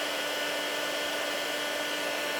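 A steady, even whoosh of hot air blowing continuously from a small embossing heat tool close by, with no talking.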